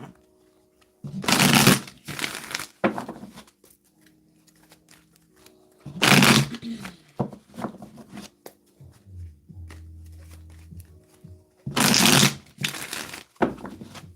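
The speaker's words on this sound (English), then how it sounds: "We're going to do 2 more shuffles." Three loud bursts of tarot cards being riffle-shuffled, each lasting about a second, separated by quieter handling and soft rustling of the deck.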